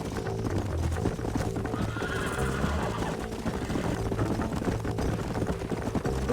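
Horses galloping with steady clip-clop hoofbeats and repeated neighing in the video game Red Dead Redemption, Nintendo Switch version, the hooves dense and continuous amid a busy background.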